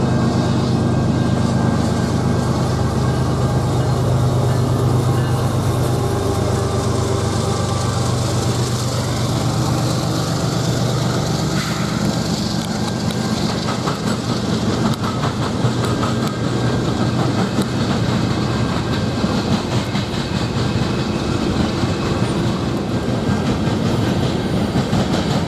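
A northbound train passes through Griffith, a loud continuous rumble with rail clatter and wheel noise sustained close by for the whole stretch, no speech.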